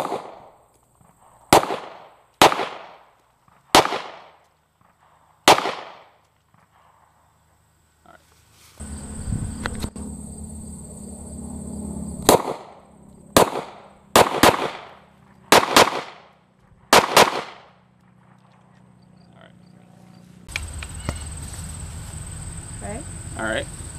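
Pistol shots at a firearm training range ring out as loud, sharp cracks, first four in steady succession, then a burst of five more, with voices and outdoor background noise in between.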